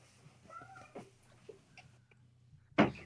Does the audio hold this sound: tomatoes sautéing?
no